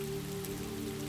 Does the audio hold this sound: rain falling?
yes